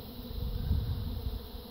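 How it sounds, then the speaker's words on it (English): A swarm of honeybees, the first to leave a hive, drones in a steady, low, continuous hum that swells slightly in the middle; no voices. "a swarm, the first swarm that came out of this hive."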